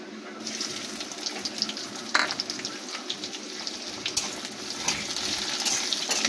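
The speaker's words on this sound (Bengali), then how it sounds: "পেঁয়াজগুলোকে ভালো করে আমরা ভেজে নেব" Chopped onions fry in hot oil in a pan, giving a steady, close hissing sizzle scattered with small crackles and pops that hold at an even level throughout.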